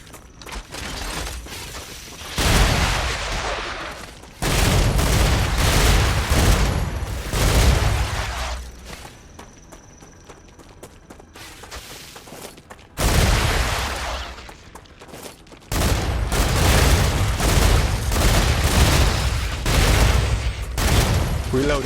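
Rapid bursts of gunfire in the StarRupture game, loud volleys broken by short quieter pauses, with a voice talking between and over the shooting.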